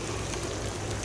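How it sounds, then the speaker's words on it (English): Light rain falls steadily outdoors, a soft, even patter and hiss that stays constant and close throughout, with no voices. "this last cloud has given us a little bit of rain"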